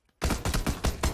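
A rapid burst of five loud, close gunshots rings out in PUBG, evenly spaced after a brief silence.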